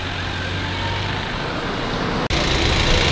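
Steady, dense roar of busy city street traffic in Accra, Ghana, with passing cars, buses and trucks filling the scene continuously, a brief sharp dropout near the end, then the wash of vehicles resumes.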